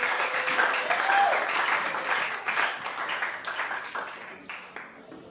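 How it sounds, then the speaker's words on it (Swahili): A church congregation bursts into loud applause for Jesus at an Easter Sunday service, the clapping swelling early and then slowly thinning out, with voices mixed in. "Tumchapie Yesu makofi makubwa"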